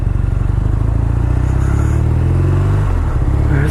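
BMW R nineT Vintage motorcycle with an Akrapovic muffler, its boxer engine droning in a steady loud rumble close by, holding a constant pulsing note without distinct revs.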